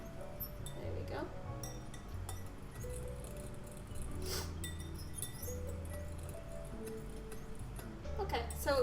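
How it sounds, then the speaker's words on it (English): A fork stirring a yeast mixture for pizza dough in a glass, giving light repeated clinks against the glass, close but soft, under a steady background hum with a voice nearby. "I like using a fork when I'm stirring"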